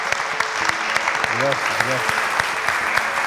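Applause from the audience at a university panel discussion in Chile, a steady wash of clapping filling the room while a voice briefly speaks over it.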